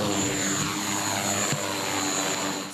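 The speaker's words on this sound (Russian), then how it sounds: "Обучение проводят с помощью вот таких учебных дронов российского производства" A small Russian-made training drone flies nearby, its propellers giving a steady high-pitched buzzing whine that holds throughout at moderate loudness.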